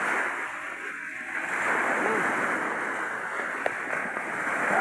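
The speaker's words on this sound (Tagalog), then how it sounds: "Lalaki ng alon." Large sea waves surge and rush in as water floods a seaside house at night, a continuous loud wash of turbulent water with a brief splash near the end.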